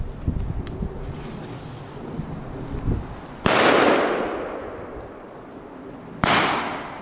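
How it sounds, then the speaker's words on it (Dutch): Small firecrackers explode outdoors: two sharp, loud bangs a few seconds apart, each followed by a long decaying rumble, after a stretch of low background rustle and faint pops. "Maar wel goede knallers."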